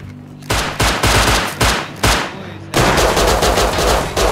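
Gunfire from the video game Rust comes as loud bursts: several separate shots in the first few seconds, then a sustained rapid volley.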